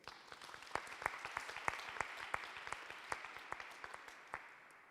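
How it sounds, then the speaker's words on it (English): Audience at a museum panel event applauding: sparse, distinct hand claps from a small group, fairly quiet and slightly uneven in rhythm, continuing steadily with no talk. "So let's have a round of applause for Grace."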